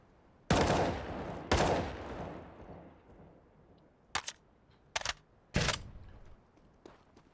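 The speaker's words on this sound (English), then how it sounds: "Tries to draw out the gunfire" Rifle fire echoes in a Counter-Strike match on the Dust 2 map: two sharp bursts early, then several short separate shots, loud but slightly distant, with quiet ambience between.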